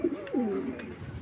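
A black Bagha flying pigeon gives a soft, throaty coo with rising and falling rolls, close by and alone over a quiet background.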